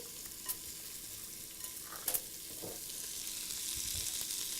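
Onions cooking down in a pan for whole wheat pasta with beans and greens give a steady, soft sizzle that builds slightly, broken by a few light clinks and scrapes of stirring, with no talk.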